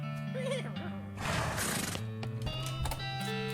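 A horse in the video game West of Loathing, a whinny-like call with other game sound effects and tonal music around it, moderately loud with no talking over it.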